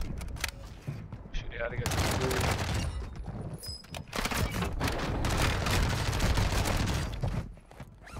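Rapid MP5 gunfire in a video game rattles in dense, loud bursts over several seconds, with sharp impacts and overlapping shots.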